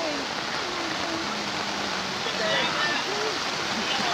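Fast floodwater from forest, plantations and villages rushes in a broad, constant roar during flooding in eastern Cirebon, with faint voices in the background.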